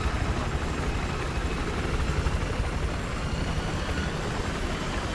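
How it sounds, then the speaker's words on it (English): A steady, droning video game helicopter rotor and engine roar in Battlefield 4, loud and continuous, with no voices over it. "Wait, I got a chopper, actually."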